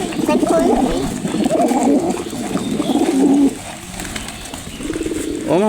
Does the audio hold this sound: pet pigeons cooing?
yes